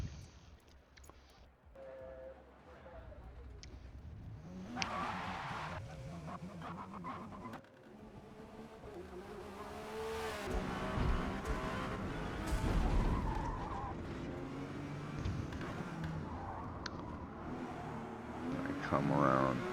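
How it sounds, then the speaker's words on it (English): Porsche 911 GT1 race car in Forza Motorsport at Road America, its engine revving and rising in pitch down the front straight with shifting gears and tire noise, loud and building toward the end, with a voice talking over it. "heading down the front straightaway for the first time. It's a pretty fast car"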